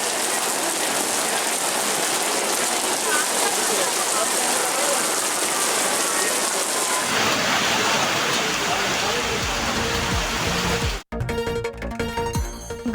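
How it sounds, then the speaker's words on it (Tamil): Heavy rainwater pours down like a waterfall onto Avalanche road, a dense, loud, continuous wash of rain that shifts to a brighter splashing texture partway through before cutting abruptly. "அவலாஞ்சி சாலையில் நீர்வீழ்ச்சி போல் மழை நீர் கொட்டுகிறது"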